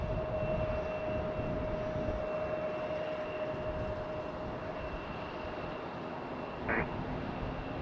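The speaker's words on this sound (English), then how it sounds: "I hear an A220 somewhere." A steady, distant Airbus A220 airliner jet engine rumble drones on throughout at an airport, a broad continuous roar with a faint high whine holding steady over it.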